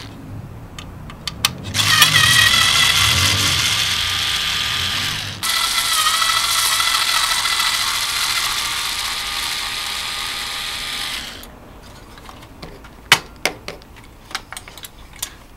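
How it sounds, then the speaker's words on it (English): A screwdriver works on an Epson CX5200 printer-scanner during a teardown, giving a steady, loud mechanical whir and ratcheting that runs for several seconds with a brief break, followed by a few sharp clicks and taps. "This is one of my favorite screwdrivers."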